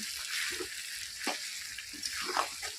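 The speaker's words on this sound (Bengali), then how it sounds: "গুঁড়ো মশলাটা দিয়ে আবারও প্রায় এক থেকে দেড় মিনিট একটু কষিয়ে নিতে হবে তো আমি কষিয়ে নিচ্ছি" Ground spices and cumin powder fry for a homemade chicken curry, giving a faint, low crackling sizzle with soft stirring scrapes in the pan.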